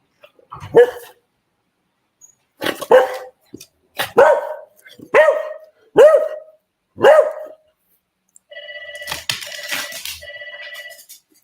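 A dog barks loudly and close by, six sharp barks in an uneven rhythm, followed by a ringing electronic tone like a doorbell or phone near the end.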